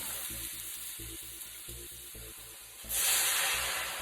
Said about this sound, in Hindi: अब हम चाशनी बना लेते हैं, और इसके लिए सबसे पहले पानी डाल लेंगे।